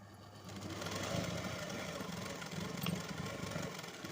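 A sewing machine runs a double stitch around the neck of a lined blouse, a faint, continuous whirring hum with a light mechanical rattle and slight swells in speed.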